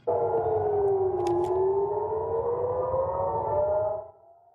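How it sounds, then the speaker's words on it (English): Civil defense air raid sirens wail across Israeli cities during an overnight missile attack, a loud sustained rising and falling tone that holds steady for about four seconds before cutting out, with no talking. "air sirens were sounding in several Israeli cities overnight as Iran launched missiles"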